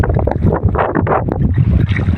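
Strong wind buffeting a microphone on a small fishing boat at sea during a storm, with heavy, gusty low rumbles and bursts of spray-like noise, loud and close, with no voices.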